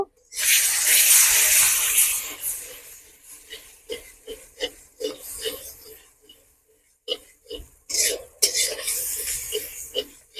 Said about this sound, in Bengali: এবার চলো এটাকে আমি ভালো করে নেড়ে নেব